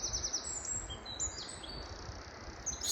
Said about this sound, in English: Just birds singing all around me.